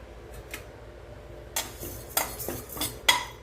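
Small moong dal lentils dry-roast slowly in a pan, heard as quiet, scattered clinks and scrapes of a utensil against the metal, growing a little busier toward the end.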